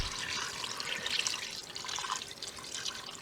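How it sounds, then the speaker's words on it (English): Water pours into a pot of pork for carnitas, a steady splashing, gurgling stream close by with small bubbling and dripping tones, alone and fairly quiet. "And then we add enough water"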